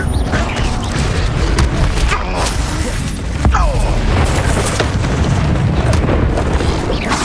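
Blasting-spell explosions in the Hogwarts Legacy video game produce loud, continuous booming blasts with rumbling, crackling debris and mechanical creaks layered over each other.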